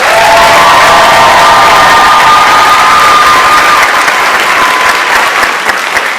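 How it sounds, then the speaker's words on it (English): A dense crowd applauds loudly and continuously with cheers and whistles for a Cardinals pitcher at a university caravan event, the clapping steady and close throughout. "Ladies and gentlemen, you see him on television, you hear him on the radio, Cardinals pitcher Hrabosky."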